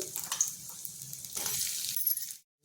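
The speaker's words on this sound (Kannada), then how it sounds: "ಎಣ್ಣೆ ಹಾಕ್ಕೊಂಡಿದ್ದೀನಿ ಅದಕ್ಕೆ ಹೆಚ್ಚಿರೋ ಈರುಳ್ಳಿ ಹಾಕ್ಕೊಂಡು" Chopped onion hits hot oil in a pan for a matar paneer kofta and sizzles steadily with a bright hiss, broken by a few glassy clinks and stirring taps, then cuts to brief silence near the end.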